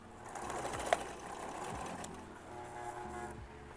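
A sewing machine runs steadily, stitching a safety seam around denim scraps for a clip holder; its motor hum and needle rattle continue throughout at close range with no talk.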